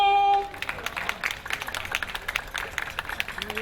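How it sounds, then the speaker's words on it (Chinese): An audience applauds a middle school group walking on stage at a Hakka-language school cultural event, a brief burst of many hands clapping that follows a tone and swells unevenly for a few seconds. "掌声欢迎中正国中"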